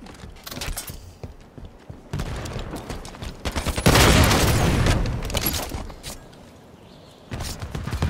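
A binary rifle fires in Halo 5 Guardians amid the surrounding game action: bursts of loud shots and blasts build to a long, dense roaring discharge, then the action quiets before more impacts return.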